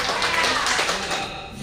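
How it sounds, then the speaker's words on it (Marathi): Audience applause at a laughter club birthday gathering, a short dense burst of clapping that fades slightly toward the end, with a voice faintly mixed in. "एका जोरदार टाळ्या पण लावल्या त्यांना"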